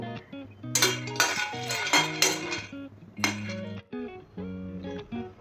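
Two tablespoons of peanuts dry-fry in a metal pan over a low-to-medium flame for a masala brinjal curry. Close, ringing clanks and rattles come in bursts, with short pauses between them.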